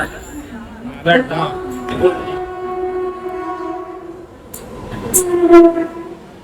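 A Mumbai metro train runs at Ghatkopar station with a loud rumble and drawn-out tonal horn-like whines, while people talk over it.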